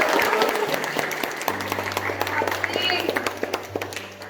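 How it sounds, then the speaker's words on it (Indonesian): A classroom group claps after a teacher praises their work, quick scattered clapping close by while a low steady hum runs underneath and voices murmur through it. "Ya bagus, tepuk tangan."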